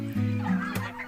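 Turkeys on a turkey farm gobble and cluck close by in quick, warbling bursts, several overlapping calls within about a second, with no speech.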